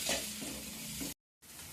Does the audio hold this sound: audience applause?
no